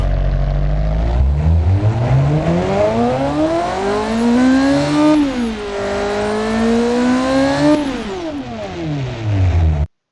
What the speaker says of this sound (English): Let's just hear how it sounds real quick.